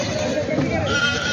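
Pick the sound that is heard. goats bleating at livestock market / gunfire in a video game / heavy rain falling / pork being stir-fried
goats bleating at livestock market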